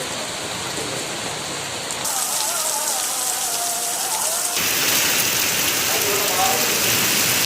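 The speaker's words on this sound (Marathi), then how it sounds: "अचानक गडगडाटासह पाऊस पडल्यानं नागरिकांची त्रेधा तिरपीट उडाली" Sudden unseasonal winter rain pours down in Sindhudurg, a dense steady hiss of drops that grows heavier partway through, with faint voices underneath.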